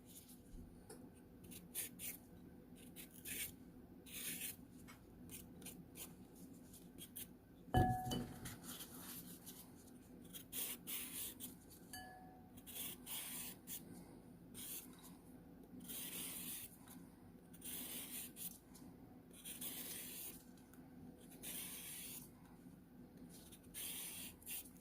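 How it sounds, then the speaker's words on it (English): Cabbage and carrots being shredded by hand in a kitchen: quiet, repeated scraping strokes in an uneven rhythm, with a single sharp clink partway through. "Once I'm finished with the shredding of the cabbage, I'll show you what it looks like."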